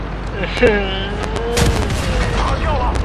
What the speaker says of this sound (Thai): ระเบิดสวยงามครับ